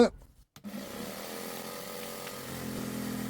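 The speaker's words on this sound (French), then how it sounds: "J'ai ma scie sauteuse sous table avec mon petit bras à bricoler maison." After a brief thump and a moment of silence, a bench-mounted jigsaw under a table starts and runs steadily, cutting for a guitar build, a continuous motor whine with a buzzing cut underneath.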